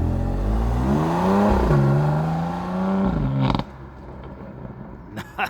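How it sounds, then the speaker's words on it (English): A 2020 BMW M2 Competition pulls away hard, its exhaust note climbing in pitch through rapid revving, dipping briefly at a shift, then rising again before fading as the car moves off, leaving quieter background noise and faint sounds. "All right, so here I'm gonna jump out, let Lauren have fun doing a little takeoff."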